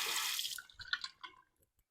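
A black Merkur 38C safety razor is rinsed under hot running tap water, giving a short steady splash that breaks into scattered drips and trickles before fading to quiet.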